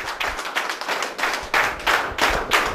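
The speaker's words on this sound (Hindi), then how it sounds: "एक जोरदार ताली के साथ इन्वाइट करिए मिस्टर सुदर्शन मोहांती" An audience at a corporate event claps steadily, a crowd of hands applauding in dense waves that swell slightly louder toward the end.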